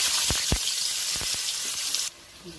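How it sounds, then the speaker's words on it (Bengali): Bay leaves and chopped onion hit hot oil for mutton biryani with a loud, steady, close sizzling hiss and a few soft pops. The sizzle drops off sharply near the end. "এবার আমি তেজপাতা ফোড়ন দেবো, কুচনো পেঁয়াজ দিয়ে দেবো"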